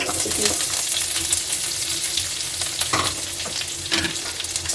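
Garlic, sliced ginger and curry leaves frying in a pan for a Kerala-style fish curry, a loud continuous sizzle with occasional stirring scrapes, close and steady, no talk.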